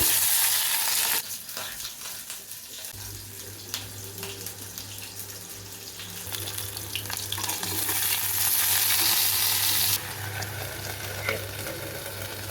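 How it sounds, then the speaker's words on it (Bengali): Okra dropped into hot oil in a home kitchen, a loud close sizzle that flares up as the vegetables go in and keeps crackling steadily, with a low hum underneath and no clear talk. "হয়ে গেছে তেলটা, যখন এই যে ঢ্যাঁড়সগুলো এখন দিয়ে দিই"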